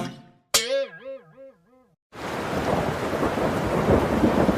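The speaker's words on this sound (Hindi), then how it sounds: "बरसात का मौसम आ गया है" A cartoon storm scene: after a short wavering tonal effect, steady loud rain sets in and pours on continuously, with low rumbling thunder underneath, and no voices.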